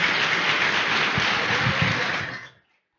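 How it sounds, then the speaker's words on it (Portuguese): A church congregation at a Sunday celebration service claps together in a dense, hissing wash of applause that stays even for over two seconds, then fades out quickly into silence. "Eu queria que você desse uma salva de palmas para eles"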